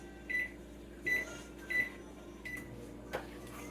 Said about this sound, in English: Pop them in the microwave for about 10 more seconds.